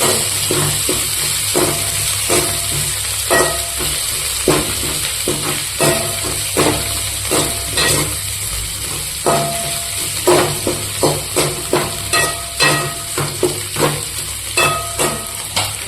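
Green chillies sauté in a pan for pepper chicken, giving a steady bright sizzle with repeated scraping stir strokes at an even rhythm, close and continuous with no talking.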